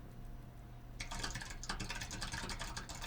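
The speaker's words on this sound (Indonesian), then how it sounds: "Ini free keyboard typing sound effect." Keyboard typing starts after a quiet moment: a steady, fast patter of light key clicks, close and fairly faint, continuing without talk.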